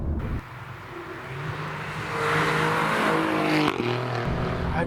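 An Alfa Romeo Giulia Quadrifoglio engine pulls hard under acceleration on a bumpy back road, its note climbing steadily in pitch and loudness, with a brief dip at a gear change before it climbs again.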